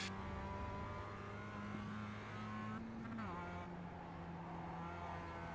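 A Mazda MX-5 Cup race car in iRacing at Lime Rock drones along with a steady engine note that drops in pitch partway through as the car shifts or lifts, then settles again at a constant level.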